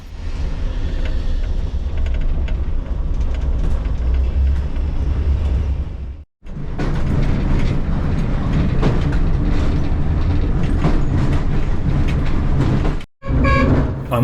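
A nearly 100-year-old Malaxa railcar runs along a rural secondary line in Romania, giving a loud, steady rumble with rhythmic rail clatter and mechanical rattling, broken by two brief dropouts.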